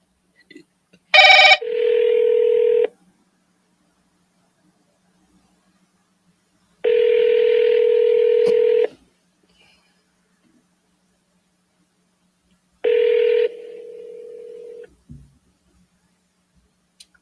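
Phone call sounds while calling sellers: a short burst of dialing tones followed by three ringback tones of about two seconds each, separated by long silent gaps.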